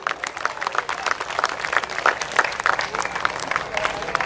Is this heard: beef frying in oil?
no